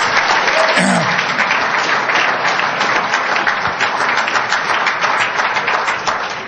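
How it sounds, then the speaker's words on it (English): An audience at a university conversation event gives a sustained round of applause, a loud, even roar of clapping that fills the room and tapers slightly at the end. "a round of applause is called for at this point"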